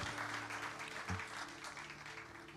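Church congregation clapping during a Sunday morning service, a soft, continuous wash of applause heard from some distance, with a brief low thump in the middle.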